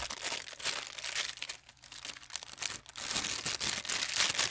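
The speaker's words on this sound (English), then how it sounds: "All of this stuff is like heat sealed, and I'm gonna have to cut it." Heat-sealed plastic packaging being cut open with scissors, a close, busy run of crinkling, rustling and tearing plastic with brief snips and pauses.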